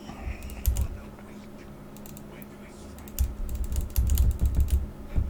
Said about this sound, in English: You can probably hear the clattering of my keyboard.